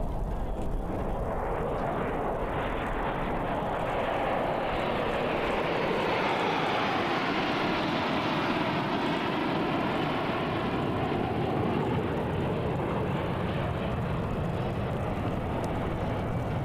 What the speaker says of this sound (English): continue to enjoy the Thunderbirds performance here at the Pacific Airshow 2024